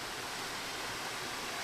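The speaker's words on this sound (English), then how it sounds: "it's only a trickle right now, but I can see that this could be quite the waterfall" A small waterfall, only trickling, gives a steady, even hiss of falling water, close by and unbroken, with no voices.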